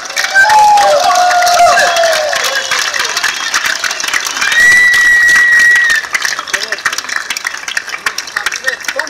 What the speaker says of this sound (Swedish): Ge dig en stor applåd, ungdomar!